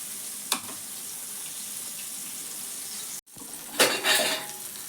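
Chicken pieces sautéing in a pan for a Konkan-style chicken fry give off a steady close sizzle, with brief stirring scrapes near the start and again toward the end.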